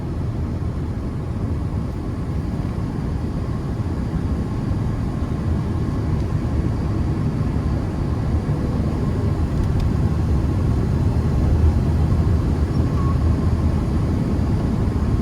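A 1998 Chevrolet Silverado 1500 extended cab pickup cruising along, with a steady low engine drone and road rumble heard from inside the cab, continuous and even throughout.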